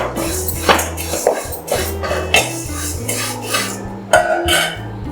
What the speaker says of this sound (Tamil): நான் இப்போ வெறும் கடாயில் தான் வறுக்கிறேன்.